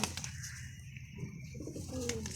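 Pigeons cooing nearby at a rooftop loft, soft low throaty coos repeating under a faint background hum, with brief wing rustles and no speech.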